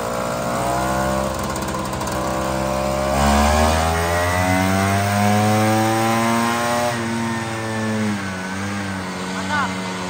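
A motorcycle engine runs in third gear, a loud steady drone with rising and falling pitch as the rider varies throttle, heard close up with some wind noise.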